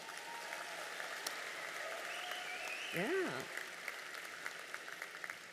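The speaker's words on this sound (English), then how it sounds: "You can give them a round of applause." Audience applause for the 2026 graduating class at a high school convocation ceremony, a steady, fairly quiet wash of clapping across the hall, with a brief spoken word and a rising tonal sound partway through.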